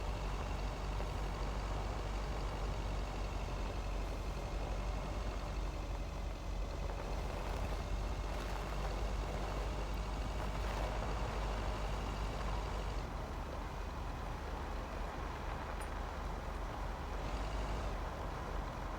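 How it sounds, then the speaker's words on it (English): A truck in the game Lake driving and turning, a steady low engine rumble held at moderate level for the whole stretch, with light mechanical rattles and a faint higher tone late on. "But a pretty good turning circle, this truck."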